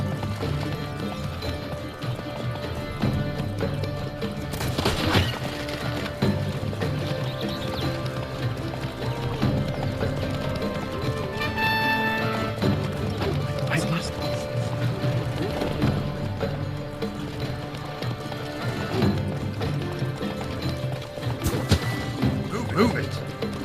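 Roach the horse galloping in The Witcher 3, steady hoofbeats with occasional whinnies and impacts, mixed under continuous game music and effects, with a voice speaking briefly.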